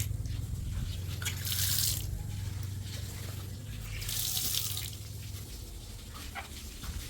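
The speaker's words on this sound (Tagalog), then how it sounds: "Mga gripo." Faucets at a beach resort washing area in Quezon run with a steady splashing flow, punctuated by brighter bursts as the water strikes the basin.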